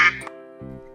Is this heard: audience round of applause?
no